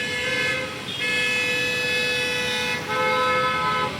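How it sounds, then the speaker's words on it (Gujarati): Vehicle horns toot on a waterlogged street in Puna village during heavy rain, a sustained blare with a brief dip partway through and a second long honk toward the end. "ગાડીઓ ન કરી હોરન મારી."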